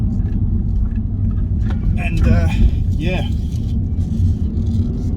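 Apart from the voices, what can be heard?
car engine revving as driver accelerates hard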